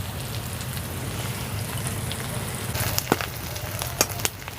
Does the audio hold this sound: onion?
yes